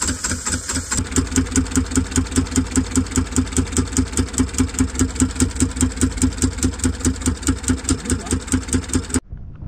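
A replacement diesel engine on a sailboat starts up and runs, settling into a loud, steady rhythmic chugging with regular pulses close by, then cutting off abruptly near the end.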